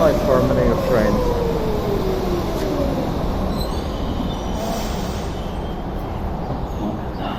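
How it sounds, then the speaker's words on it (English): Trains rolling past on a railway line in Prenzlauer Berg, Berlin, with steady rumble, wheel squeal and rail noise fading slightly over time, and a voice speaking over it. "What a nice harmony of trains."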